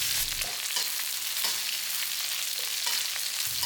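Spices frying hard in hot pork lard for a pork belly and salted fish claypot dish, a loud, dense, continuous sizzle heard up close with no voices.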